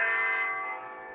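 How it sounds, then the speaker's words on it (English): A single bell rings out with a bright, sustained metallic tone that slowly decays, clear and close with nothing else around it. "That's the religion bell."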